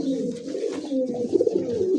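Black Lahori pigeons with feathered feet coo steadily at close range, their low, throbbing calls overlapping with no pause.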